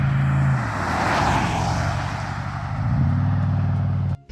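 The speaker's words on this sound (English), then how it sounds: "I love the sound of the car. It has a really calm, gentlemanly kind of rumble." Pontiac Grand Prix GXP V8 rumbling steadily at close range, a smooth, low, even drone that swells slightly near the end before cutting off abruptly.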